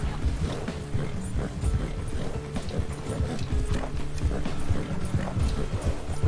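Horse hooves pounding in a steady, rapid gallop during a Red Dead Online horse race, a continuous rhythmic clatter over a dense in-game backdrop.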